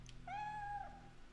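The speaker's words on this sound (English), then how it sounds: "you gotta let the kitty into Miku's room." A cat in the survival horror game Fatal Frame 3 gives a single clear, drawn-out meow, close and distinct over a faint low hum.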